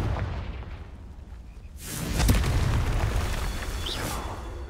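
A Confringo blasting spell explodes in Hogwarts Legacy: a quiet stretch, then a sudden loud booming blast at about two seconds that rolls on with crackling debris and a brief high whistle.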